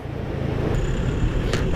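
Road traffic from a long line of cars in front of Elante Mall in Chandigarh, recorded on a GoPro by a rider: a continuous low engine and tire rumble, close and steady, with a brief higher whine and a short burst near the end.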